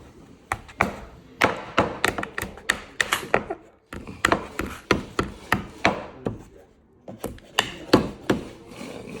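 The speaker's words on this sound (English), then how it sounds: "Hit it with the hammer." A hammer strikes nails into wood while a bird feeder is built, a long run of sharp, close taps in quick irregular bursts with brief pauses between them.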